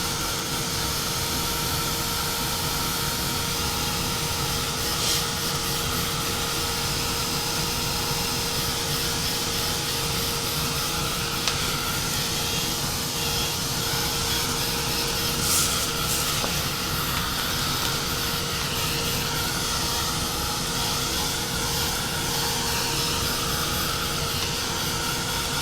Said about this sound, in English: we're going to give it a shot of heat here